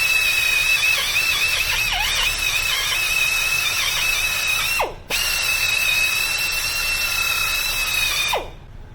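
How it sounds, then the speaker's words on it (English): A rotary abrasive disc cleans the wheel bearing bore of a VW steering knuckle with a steady high whine. It runs for about five seconds, spins down briefly, then grinds again before stopping, with no talk. "You can also use an abrasive disc."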